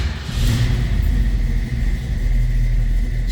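A 1965 Ford Mustang Fastback 2+2 with a mild cam runs at a loud, steady, close low idle, its deep rumble holding throughout with slight surges and no voices.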